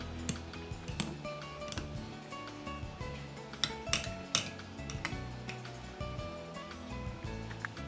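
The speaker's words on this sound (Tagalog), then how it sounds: "Maaaring gumamit ng pangmasa ng patatas o tinidor upang mapaghiwalay ng maayos sa mga butil ng malagkit." A fork works through cooked glutinous rice for suman, making light irregular clinks and ticks against the bowl as the grains are separated, close by and fairly quiet with no talking.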